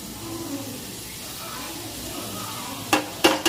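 Garam masala spices sizzle steadily in a hot pan for ghugni, a soft continuous frying hiss with a few sharper bursts of crackle near the end.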